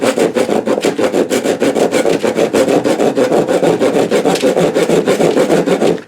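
A homemade dovetail saw with teeth that could use sharpening cuts through unclamped wood, giving a loud, steady run of rhythmic push-pull rasping strokes, about three per second, with nothing else heard.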